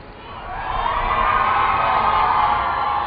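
A large outdoor crowd at Barack Obama's second presidential inauguration cheering and whooping, the roar swelling in the first second and holding steady and loud.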